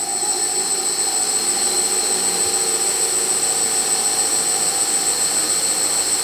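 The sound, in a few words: hexacopter drone motors and propellers running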